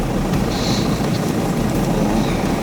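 A heavy expedition truck pulls away on a polar route toward a fuel depot at 83 degrees latitude, its engine freshly restarted after warming in the cold, giving a steady, fairly loud low rumble with broadband vehicle noise and no talk.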